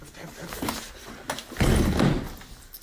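A door slams with a heavy, close thump during a ghost-hunting sequence. The impact booms loudly and briefly over ongoing voices and rustling.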